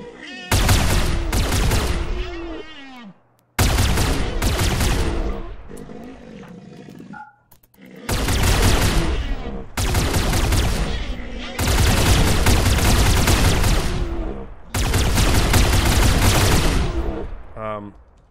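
Gunfire in the video game Rimworld comes as five loud bursts of rapid shots, each a few seconds long, separated by short pauses, harsh and booming with some roaring quality.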